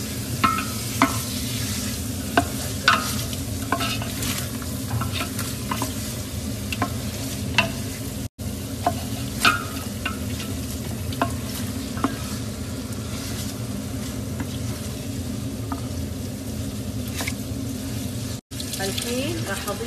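A fish sauce with freshly ground tomato is stirred and sizzles in a pan, with a steady frying hiss, repeated utensil scrapes and clicks throughout, and a low hum underneath.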